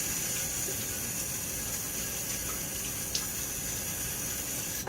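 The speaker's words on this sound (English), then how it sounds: "a little water in my face before the shave." Tap water runs in a steady hiss and splash as water is splashed on the face before shaving, continuous and moderately close, with one brief knock near the end.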